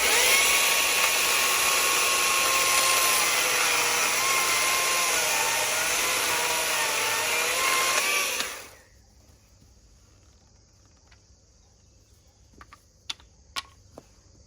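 A Stihl MSA120 C battery chainsaw cuts through seasoned 4x6 cypress pine with a loud, steady high-pitched electric whine and chain rasp for about eight seconds, then stops abruptly, leaving quiet room tone and a few light knocks.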